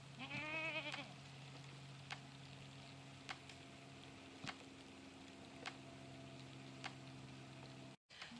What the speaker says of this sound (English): the goats behind me are out in a secluded pasture with my medium-sized calves